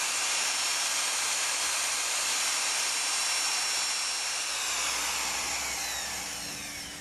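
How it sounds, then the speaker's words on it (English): Power mixer stirring a two-part coating in a bucket, giving a loud, steady, close hissing whir that holds evenly and then fades slightly toward the end. "You can just drop your mixer in, give it a quick stir."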